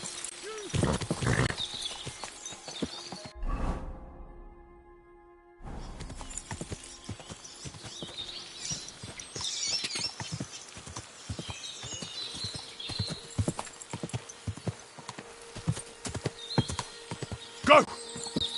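Horse hooves clip-clop steadily through a video game scene, with a whinny early on and a brief pause in the middle, while a voice talks over the hoofbeats.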